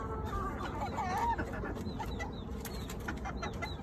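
A molting rooster clucks and calls nearby amid other chickens, short throaty notes and a few higher squawks over a constant farmyard noise bed.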